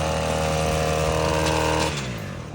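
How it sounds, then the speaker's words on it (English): A gas leaf blower runs at full throttle while clearing yard debris, a loud, close motor whine with a steady buzzing drone that drops in pitch as it throttles down near the end. "I'm going to get the blower and blow all this stuff back into the yard"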